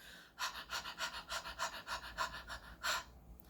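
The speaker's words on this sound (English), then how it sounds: "You can also try this panting at different tempos" Quick, evenly spaced breathy huffs of rapid panting, close and fairly loud, about a dozen short puffs in a row.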